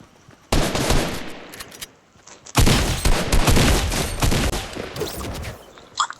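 Automatic and rapid gunfire in the video game Fortnite, two long loud bursts of rattling shots separated by a brief lull, close and harsh, with a final crack at the end.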